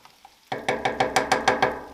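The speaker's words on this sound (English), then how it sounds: "let's give this a little stir here" A spoon stirs sauce in a pan, making about eight quick, evenly spaced scraping strokes close by after a soft opening clink.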